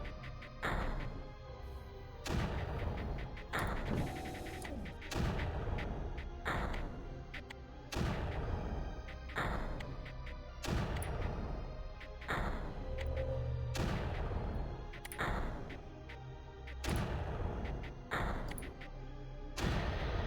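Turrets firing in the video game Creeper World, heavy booming shots repeating in a steady rhythm every second or two, each a loud thud with a short decay, over a continuous game soundscape.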